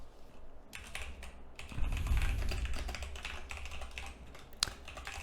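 Rapid clattering keystrokes on a computer keyboard, close and fairly loud, in irregular bursts with short pauses and a few sharper taps.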